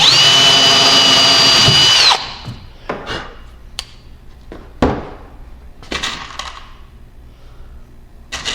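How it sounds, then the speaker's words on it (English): A power drill whines loudly and steadily for about two seconds as it bores a hole for a dinghy gunwale guard, then stops, leaving scattered clicks and knocks of handling. "Now I can drill this other hole"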